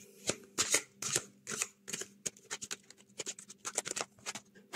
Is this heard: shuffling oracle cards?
yes